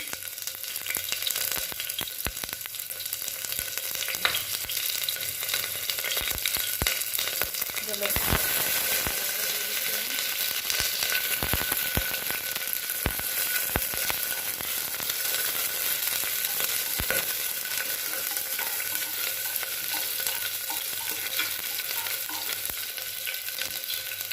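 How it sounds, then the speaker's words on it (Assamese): Cumin seeds fry in a generous amount of hot oil for khichdi, making a steady close sizzle that crackles throughout, with scattered sharp clicks and scrapes of stirring and no talk. "ইয়াত মই কেইটামান জিৰা দি দিছোঁ।"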